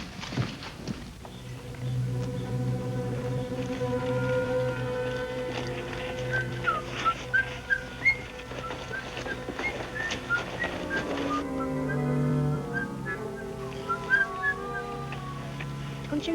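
In a ghost town, a person whistles a melodic tune in clear, lilting phrases over a background of soft music and faint hoof-like clopping.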